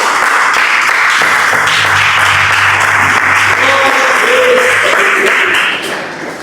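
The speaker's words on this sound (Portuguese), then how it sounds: "A igreja pode se assentar e glorificar o Senhor com palmas bem alegres para Jesus" Church congregation clapping joyfully during a family worship service, a steady dense wash of hand claps filling the room for several seconds, with a sustained low musical tone underneath, tapering off near the end.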